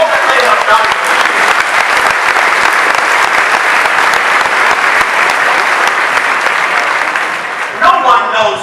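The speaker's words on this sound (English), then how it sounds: "Let's give our faculty and staff a round of applause" Graduation audience at a 2015 Western Illinois University commencement applauding faculty and staff, a loud, dense and sustained roar of clapping from a large crowd that continues for several seconds before tapering off.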